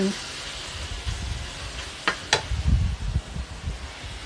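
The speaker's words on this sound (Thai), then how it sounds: "ผัดให้เข้ากันค่ะ ผัดให้เข้ากัน" Minced pork with bamboo shoots being stir-fried, a hissing sizzle under low rumbling scrapes and shuffles of the spatula, with a couple of sharp clacks midway.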